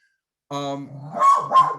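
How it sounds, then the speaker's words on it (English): A single pet dog barks suddenly indoors, a loud near bark followed by a couple of rougher yips and growly barks, with no talk over it. "I'm sorry you might hear my dog is all of a sudden barking."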